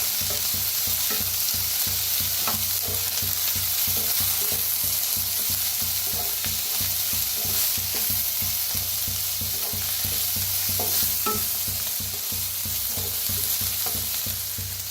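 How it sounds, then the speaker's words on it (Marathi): Tomatoes, onion and spring onion fry in a pan with turmeric and red chili powder, making a dense continuous sizzle over a low rhythmic scraping of stirring, close and steady, with no one talking. "आता छान भाजलेले आहेत टमाटर, कांदा, कांद्याची पात, त्याच्यातच टाकूया हळद, लाल तिखट"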